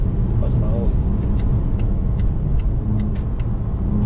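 A Volvo S60 sedan cruising at highway speed around 110 km/h, heard from inside as a steady, continuous low road and engine rumble with little variation, the cabin otherwise fairly quiet.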